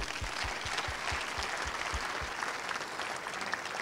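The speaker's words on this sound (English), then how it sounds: "can we give a round of applause to all of our speakers?" A conference session audience on African drylands at Forest Day 5, 2011, applauds its speakers, a steady, fairly distant patter of clapping that holds evenly across the few seconds.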